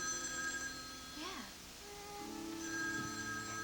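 A telephone rings in a 1981 TV soap opera scene, an electronic ringing tone heard faintly under a music score with gliding tones and no talk over it.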